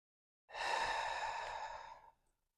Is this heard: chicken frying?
no